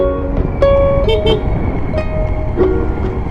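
Several short honks from a vehicle horn sound amid loud road rumble, spaced irregularly and fairly close, on the Tagaytay-Talisay Road in the Philippines.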